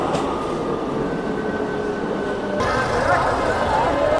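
A local train running from Sodepur toward Sealdah, heard from on board as a steady rumbling roar of wheels and carriage with some metallic squeal, continuing unbroken throughout.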